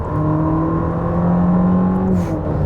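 Ferrari SF90 hybrid supercar engine pulling hard under acceleration from inside the cabin, a loud continuous drone with steady harmonics that climbs slightly in pitch and then eases off near the end.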